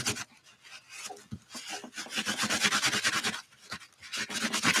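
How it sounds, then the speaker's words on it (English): Dried rubber cement rubbed off an art journal page by hand, a steady scratchy rasping friction in repeated strokes, close and fairly loud, with brief pauses between bursts. "I'm rubbing off the cement, the rubber cement."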